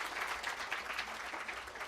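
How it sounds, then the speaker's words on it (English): An audience at a university conference in Pune claps in a brief, dense burst of applause, faint and evenly sustained from a crowded hall. "Kindly give a huge round of applause, friends."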